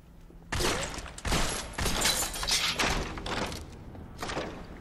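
Gunfire in the video game The Darkness: a sudden loud burst of repeated shots and impacts starts after a brief quiet moment and continues in heavy clustered blasts, then thins near the end, no speech.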